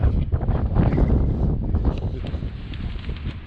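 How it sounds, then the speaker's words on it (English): Strong wind gusting outdoors at a house build site, roaring and buffeting the microphone loudly with a rough, rumbling rush that eases slightly toward the end. "This wind is something else."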